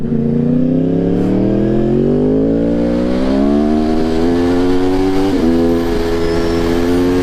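A supersport motorcycle accelerates hard through the gears, its engine note climbing steadily and loud and close throughout, with a brief dip near the end as it shifts before pulling on.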